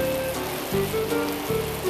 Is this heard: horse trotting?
no